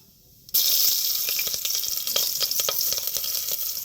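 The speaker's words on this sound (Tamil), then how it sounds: "சோம்பு நல்லா செவந்து வந்துட்டு இப்போ வந்து பச்சை மிளகாய் போட்டுக்கலாம்." Green chillies dropped into hot oil with browned fennel seeds burst into a loud, steady sizzle that starts abruptly and keeps crackling close by.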